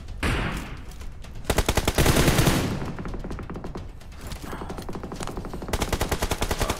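Automatic gunfire erupts in rapid bursts during a round of the video game PUBG, with sharp rattling volleys and short gaps between them, loud and close.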